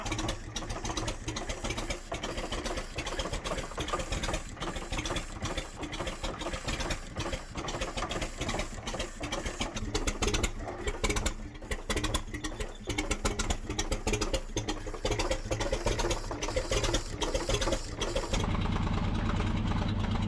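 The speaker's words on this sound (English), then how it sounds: "we managed to get the engine down to a nice, calm idle" A 1947 GMC 235 inline engine in a kart build, running at a calm, steady idle after a valve adjustment, its even mechanical ticking and chugging continuous and fairly close throughout.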